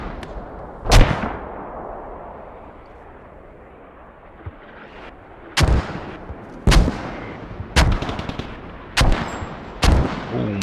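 Mortar and artillery fire in a tactical military video game match, a heavy boom followed after a pause by a rapid series of sharp, loud blasts, each cutting through a continuous rumbling battlefield background.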